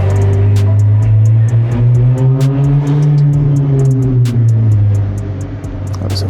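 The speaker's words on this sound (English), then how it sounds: "A Ferrari that just went off, drove off" A Ferrari sports car pulling away, its engine note rising and falling with a deep, loud rumble close by before fading slightly at the end, alongside sharp ticking clicks.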